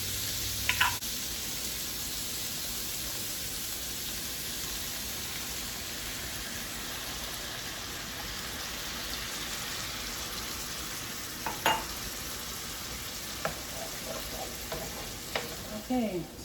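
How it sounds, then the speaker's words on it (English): Broccoli beef sizzles steadily in a hot pan as sauce is stirred in, a constant close hiss broken by a few sharp spoon or utensil clicks near the end. "Okay, now I'm going to stir in the sauce."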